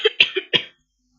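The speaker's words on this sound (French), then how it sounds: "Désolée, je tousse un petit peu" A short burst of coughing, two or three quick harsh coughs close up, followed by silence.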